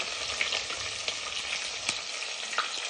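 Chopped onions fry in a pan for fry piece biryani, giving a constant bright sizzle with scattered stirring scrapes and clicks, close and fairly loud, no voices.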